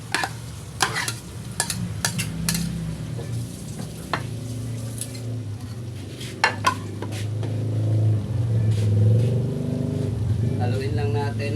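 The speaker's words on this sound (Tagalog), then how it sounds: "Haluin lang natin mga idol ang ating patatas." Diced potatoes for menudo are stirred as they fry in a pan, giving a steady sizzle with scraping and clinking strokes, while a person talks over the cooking.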